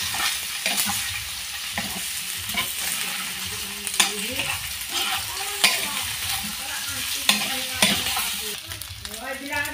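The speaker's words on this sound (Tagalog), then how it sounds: "Haluin muna natin, sangkutsahin natin." Pork sautéing with garlic and onion for adobo, a steady loud sizzle broken by scraping and clacking as a utensil stirs the pan at irregular intervals.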